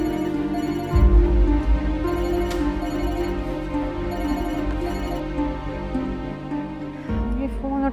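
A telephone rings on unanswered, its repeated electronic trills pulsing in regular bursts over a steady low background hum, loud and close throughout.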